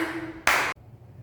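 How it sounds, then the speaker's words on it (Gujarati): One short, crisp hand clap stands alone against a quiet background. "તાળી પાડવી શી ઇઝ ક્લેપિંગ"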